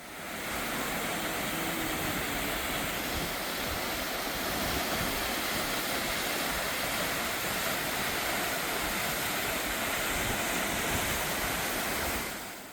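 Twin waterfalls roar beside a wooden deck trail in autumn. A loud, unbroken rush of falling water is heard close up, with no voices.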